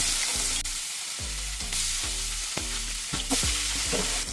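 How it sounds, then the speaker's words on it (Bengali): Pangasius fish pieces frying in hot oil over a very low gas flame, a steady, close, continuous sizzle with soft crackles and a few light clinks, with no voices. "তেলটা কিন্তু আমার গরম হয়ে গেছে আর গ্যাসের ফ্লেমটা কিন্তু আমার একদমই কমানো আছে আমি মাছগুলো এক এক করে দিয়ে দিই"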